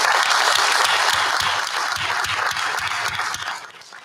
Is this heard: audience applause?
yes